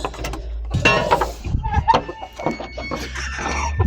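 A flock of chickens clucks and squawks at close range, with loud, choppy bursts of calls and a brief crow-like cry among them, plus some mechanical rattling in the background.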